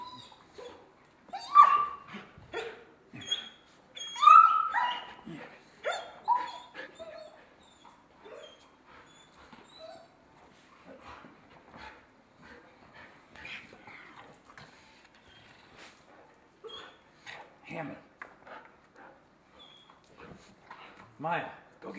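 A little dog gives high whimpers and yips alongside sharp barks in scattered bursts, loudest early on and fading to intermittent whines, while someone speaks nearby.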